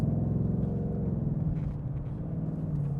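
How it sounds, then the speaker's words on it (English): A Ford Mustang Dark Horse downshifting through paddle shifts, a steady close engine rumble with pulsing revs that rise and settle, heard alone. "And the downshifts sound amazing"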